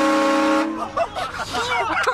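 Horn of a 2019 Honda CB1000R motorcycle, a single steady toot lasting about half a second, followed by a voice talking.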